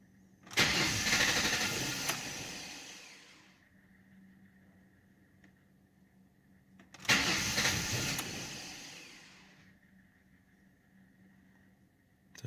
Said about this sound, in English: It's trying to start.